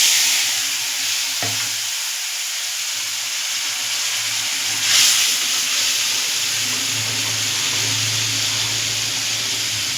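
A watery paste of ground cumin and turmeric hits hot oil with a sharp splash, then settles into a loud, continuous sizzle and hiss, with a brief flare of spitting midway.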